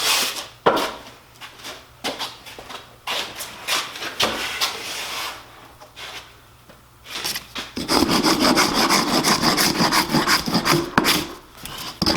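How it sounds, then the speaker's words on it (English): Tools scraping and rasping excess expanding foam out of cracks in a cedar exterior door frame, with scattered scrapes and knocks, then steady, louder rubbing strokes toward the end, no talk. "I used several tools to get the excess foam out of there"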